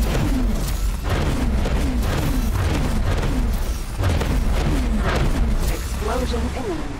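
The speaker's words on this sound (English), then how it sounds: "Explosion imminent." Explosions boom and rumble in the space game X4 Foundations, with heavy continuous low roar and repeated bursts, loud and close, while tonal alert chirps and voices sound over the din.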